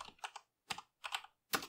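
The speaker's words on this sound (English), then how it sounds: "we do that by typing in sudo service Dovecot" A command typed on a computer keyboard: several quick bursts of crisp key clicks separated by short pauses, close and clear with no talking.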